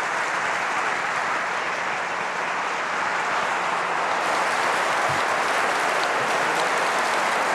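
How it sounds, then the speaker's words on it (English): Steady, loud audience applause fills a hall in Ottawa as an evening speaker, a Pulitzer Prize-winning journalist, is welcomed, a dense continuous wash of many hands clapping without pause. "I would like a warm round of applause for Pulitzer Prize-winning journalist Glenn"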